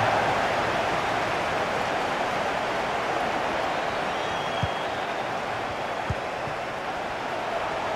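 A continuous, dense roar of a stadium crowd cheering in the FIFA 23 football game, steady and broadband throughout, with a couple of faint thumps partway through.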